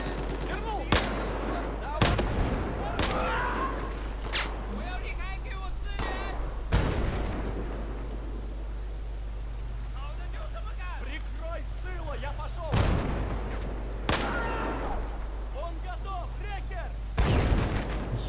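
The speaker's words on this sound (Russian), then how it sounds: "Ни хера тут с танка лупят." Tank cannon fire in the video game Battlefield 4 sounds as several loud, sharp booms spaced seconds apart over a steady low engine drone, with someone talking between the shots.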